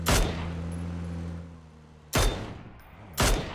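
Three loud, sharp gunshots in the online shooter PUBG, spaced well apart, each cracking and then decaying, over a low humming engine drone and no speech.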